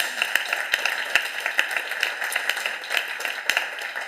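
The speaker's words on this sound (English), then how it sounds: "I would like to ask an applause for the organizing team and all the ladies and some men of the Catalan Tourist Board that worked very hard" A conference audience applauds the organizing team at a regenerative tourism event, many hands clapping steadily and loudly in a sustained, even wash with a few sharper claps standing out.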